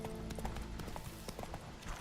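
Roach, the horse in The Witcher 3, trots along with a quick, steady clip-clop of hooves, fairly close and alone.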